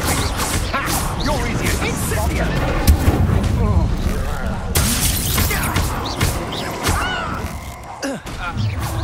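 An Incendiary spell blast in the video game Hogwarts Legacy: loud, crashing booms and impacts in a chaotic fight, layered with game voices and music, with bursts repeating throughout.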